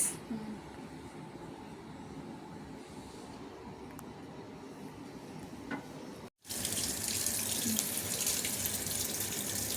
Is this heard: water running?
yes